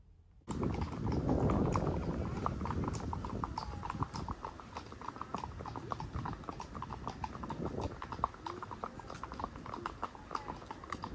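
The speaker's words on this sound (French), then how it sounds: "Je vais voir le cheval" A horse's hooves clip-clop in a steady, even rhythm, close and clear, continuing for several seconds with no voices present.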